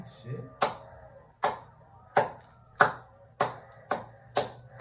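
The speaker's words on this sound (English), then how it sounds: "Are you clapping for the song?" Single sharp claps land at a slow, even beat, about seven in a row, close and distinct with quiet gaps between them and faint talk underneath, as someone claps along to a song.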